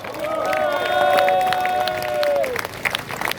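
Crowd applause and cheering at an outdoor political rally for Alexandre Pat, steady and close, with a long sustained tonal call riding over the clapping before it breaks into scattered claps.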